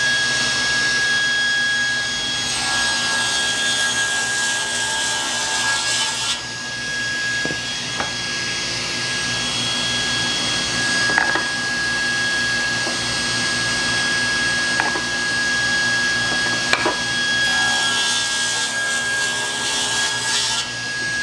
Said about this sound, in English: So now we've got to go over to the table saw, and we'll make this cut first